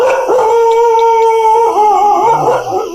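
A dog howls at a cremation ground in a long, wavering cry that rises and falls for about three seconds, loud and close, with no other sounds over it.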